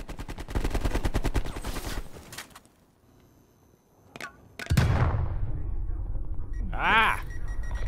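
Gunfire in the video game Call of Duty: Black Ops Cold War, a rapid burst of automatic shots up front, a quiet gap, then a single sharp report followed by more loud game noise and a rising whistling effect.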